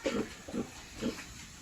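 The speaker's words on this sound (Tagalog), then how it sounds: "ito na sila dalawang baboy" Two pigs on a small farm give a few low, grunting snorts in short bursts, close by over a quiet, hissy background.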